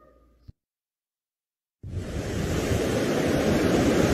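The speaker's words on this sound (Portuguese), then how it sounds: "Esse é o som das ondas do mar." Sea waves wash in steadily after a short silence, a loud broadband surf roar that builds and holds without pause.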